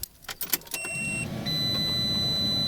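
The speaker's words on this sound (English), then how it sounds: "Grab our keys, turn over the car." A car engine cranks and catches on the key turn as a hidden kill switch is tested, a few short bursts of starter noise settling into a steady, close idle with a faint whine.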